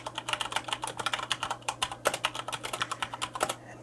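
Typing on a Corsair K70 RGB MK2 mechanical keyboard with Cherry MX Brown switches, a steady stream of close, crisp key clicks with no talk.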